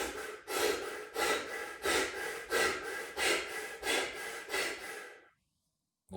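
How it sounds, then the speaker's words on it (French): Rapid rhythmic breathing in the Wim Hof method: about ten quick, forceful breaths in a steady beat, close and loud, each one a rushing whoosh. No one speaks, and the breaths stop abruptly into near silence. "après ces 30 respirations, je vais faire 20 respirations rapides et ça va donner ceci."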